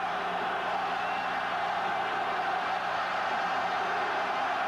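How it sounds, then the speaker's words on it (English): A huge crowd at a 1979 European football match between Bayern Munich and Red Star Belgrade keeps up a dense, unbroken roar of cheering that sounds like it is coming from a distance. "Cheered on by this huge crowd."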